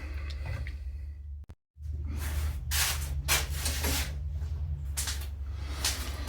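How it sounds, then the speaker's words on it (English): Steady rough rubbing of sandpaper on a putty knife handle, hand sanding in repeated strokes, close and continuous, with a low hum underneath and a brief pause early on. "I'm going to hit it with the hand sanding a little bit"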